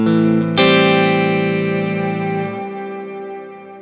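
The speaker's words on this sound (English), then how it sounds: "There's our reverb, and the reverb is of the plate reverb type" A guitar chord rings out through the plate reverb of a Wampler Ethereal delay and reverb pedal, a bright struck attack followed by a lush, shimmering wash that slowly fades away.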